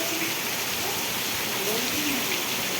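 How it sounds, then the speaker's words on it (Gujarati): Heavy rain in Vejalka village, Botad district, patters on surfaces at moderate volume, a continuous wash of drops with no pauses and no wind. "કેવો મસ્ત વરસાદ પડી રહ્યો છે"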